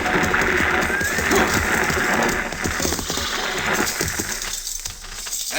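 A six-horse stagecoach hitch draws near, hooves, harness jingle and clinking over a dense, steady wash of rolling noise that stays loud from start to finish.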